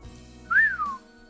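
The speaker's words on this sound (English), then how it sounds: "Mion looked away and began to whistle." A single short rising-then-falling whistle from a character in the Higurashi visual novel game, clear and alone over a quiet background.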